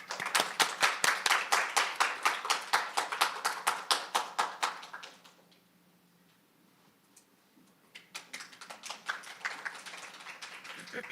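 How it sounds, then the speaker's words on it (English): An audience at an international training preview session claps in a steady rhythmic beat for several seconds, drops to near silence, then resumes with softer, scattered clapping. "please welcome Ms. Kim with a big round of applause"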